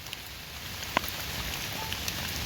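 Steady rain hissing on surfaces in a forest while foraging for mushrooms, with a few distinct drops tapping nearby.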